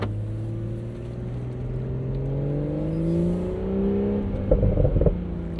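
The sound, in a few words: BMW Z4 M40i exhaust pops and burbles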